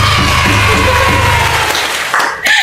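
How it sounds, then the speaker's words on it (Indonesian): A live studio audience cheers and claps loudly and close, a dense burst of mixed whoops and shouts that fades slightly near the end. "Tepuk tangan dong."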